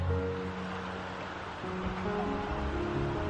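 Steady broadband rush of creek water flowing nearby, a soft continuous wash with no voices, as a rainstorm approaches.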